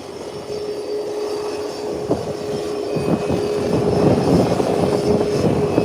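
Twin-engine propeller drone from a Twin Otter aircraft with both engines running at an airport parking area, a steady loud hum with a constant tone and rising intensity as it prepares to taxi.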